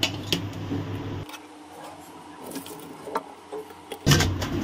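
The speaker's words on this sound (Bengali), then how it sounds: "এবারে আমি মাছটাকে ঢেলে দেব জল ঝরানোর জন্য" Boiled fish poured from a pot into a strainer to drain the water, heard as clattering metal pot and utensil knocks with a brief gush and a louder final clank, fairly close.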